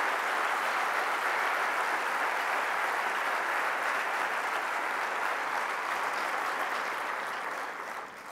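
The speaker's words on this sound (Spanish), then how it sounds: "Quiero pedir, en primer lugar, un fuerte aplauso para las voluntarias y voluntarios que hacen posible actos como estos" A large political rally audience in Spain applauds for the volunteers in a dense, sustained roar of clapping that holds steady and begins to fade near the end.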